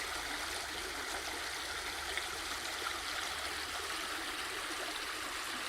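Stream water flows in a soft, continuous rush, low and even throughout with no breaks or voices.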